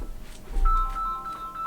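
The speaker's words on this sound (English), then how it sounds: "That's my phone." A phone rings in a short electronic tone pattern, loud and close, over a low rumble with no talking.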